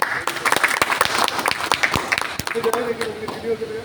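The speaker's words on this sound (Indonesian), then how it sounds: "Tepuk tangan tuh." Audience applause at an Indonesian mosque youth organization gathering, a burst of dense clapping with sharp individual claps throughout, voices mixed in and a brief tone near the end.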